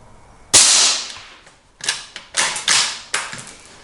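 A Savage B.MAG Varmint .17 WSM bolt-action rifle fitted with a Wildcat Panther moderator fires one sharp, suppressed crack, followed by a quick series of fainter mechanical clacks from the bolt being worked.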